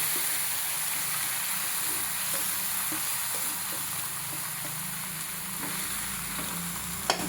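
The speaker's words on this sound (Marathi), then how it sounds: "या कढईमध्ये मी 1 चमचा तूप टाकते आणि 1 चमचा तूप टाकल्यानंतर यामध्ये ही सगळी डाळ टाकणार आहे" Cooked dal hits a hot kadhai with a spoonful of ghee and fries with a steady, continuous sizzle and hiss, broken by a few soft scraping stirs, close and alone.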